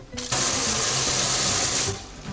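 Water gushes hard from a kitchen faucet into a sink in a small furnished studio apartment in Sillim, Seoul, a strong steady rush that swells in abruptly and tapers off near the end, heard alone.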